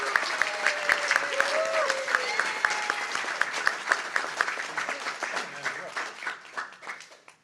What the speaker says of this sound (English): give a quick round of applause to Sandy and John Halverson, to Brooke Sexton, and to Judy Sanders